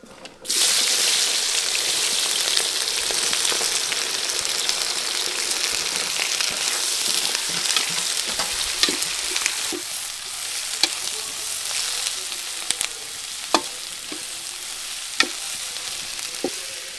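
Mustard seeds and onions frying in hot oil in a pan, a loud continuous sizzle with scattered pops and crackles throughout, close up and with no talking.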